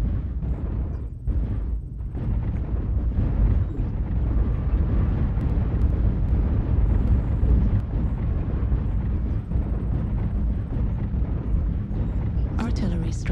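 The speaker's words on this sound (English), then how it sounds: "Artillery strike online." Artillery strike explosions in a military video game, a continuous heavy rumbling roar of blasts rolling on for over ten seconds, loud and dense, with a sharper burst near the end.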